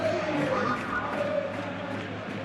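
A stadium crowd in the football video game Football Life 26 roars and chants steadily throughout, a dense continuous wash of cheering at match day.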